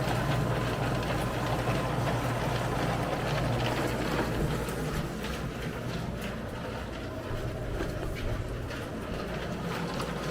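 A rock tumbler motor taken from a Harbor Freight tumbler runs with a constant low mechanical hum and rumble, steady and unbroken throughout.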